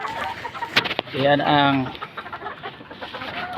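Chickens being fed, clucking close by in a short burst under a voice, with one louder drawn-out squawk in the middle.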